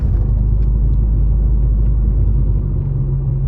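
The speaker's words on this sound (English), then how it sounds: "driving through Fawnskin right now." A car rolls along a road through Fawnskin near Big Bear, giving a steady, loud low rumble of engine and tires with no talking over it.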